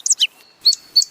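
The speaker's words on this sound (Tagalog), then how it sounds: "Paano naman ang ibon?" High-pitched bird chirping: a few quick, bright tweets close together, then two more separate chirps after a short pause, all clear and alone with no talking.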